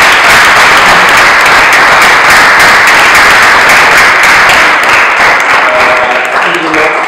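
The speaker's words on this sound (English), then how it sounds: "I think this is a great applause to these people." A seated audience applauds the speakers of two discussion panels at a talk event, a loud dense wash of many hands clapping that carries on steadily and tapers slightly at the end.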